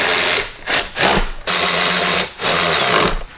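A power tool drives in the two front bolts on a GM 2.7L L3B turbo four-cylinder Silverado or Sierra engine, giving loud, close whirring bursts that rise and stop with short pauses between them.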